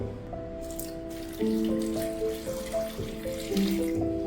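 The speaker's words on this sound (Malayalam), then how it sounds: "ഇനി ഇതിൻ്റെ അകത്തേക്ക് അല്പം വെള്ളം ഒഴിച്ചു കൊടുക്കാം." Water trickles into a pot of broken jaggery, a close, bright pouring and dripping sound with ringing tones that shift as the vessel fills.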